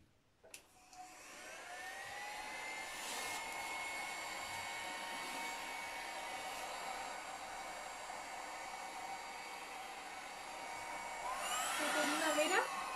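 A hair dryer blows steadily on stencil inks laid on newspaper. Its high, even whir holds for over ten seconds at moderate level, with a short surge in pitch and loudness near the end.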